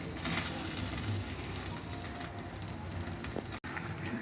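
Tomato broth in a pan for a Bangladeshi pabda fish bhuna coming to a boil over raised heat, a steady close hiss and bubbling sizzle throughout, briefly cut out near the end.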